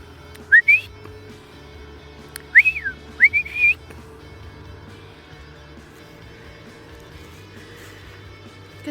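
Several sharp rising whistles recall Bella, a trained dog, outdoors by a road being graveled, two short blasts then three in quick succession, clear above a low rumble of distant heavy trucks.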